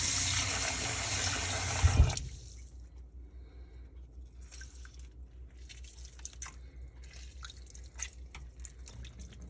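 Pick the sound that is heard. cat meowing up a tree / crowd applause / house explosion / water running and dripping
water running and dripping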